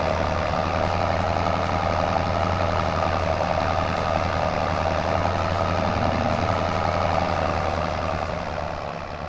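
Articulated tractor engine in Farming Simulator 25 runs steadily and loud throughout, a deep continuous diesel drone with a strong low hum, no talk over it.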